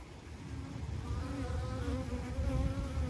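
Honeybees at a rescued hive under a roof overhang, early foragers returning with date palm pollen, make a steady, fairly close buzzing hum with wavering pitch that continues alone throughout.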